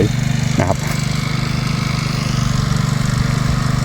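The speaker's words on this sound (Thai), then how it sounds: "ฝั่งนู้นเสียง เครื่องตัดหญ้าดังไปนะครับ" A steady motor drone hums continuously at a distance from a grass cutter running across a farm field, with a brief scraping noise early on.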